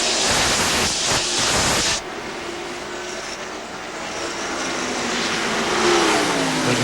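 NASCAR Winston Cup stock cars race at Darlington in the 1993 Southern 500, a loud roaring wash of engines with a close car sweeping by, then a sustained, slightly rising drone of the field.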